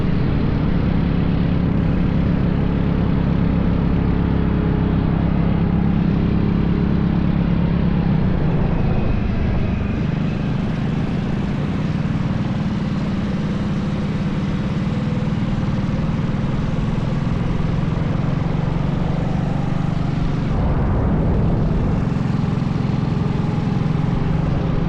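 A small engine on a homemade motorized Murray bicycle runs steadily during a test ride, giving a loud, continuous buzzing drone that shifts slightly in pitch as the throttle changes over about twenty-five seconds, with no talking.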